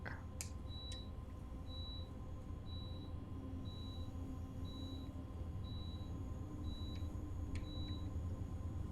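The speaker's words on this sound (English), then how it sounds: "I don't think that beeping is coming from the game, I think it's coming from my dishwasher." Dishwasher beeping from another room, a faint high tone repeating about every second in a steady row of short beeps over a low background hum.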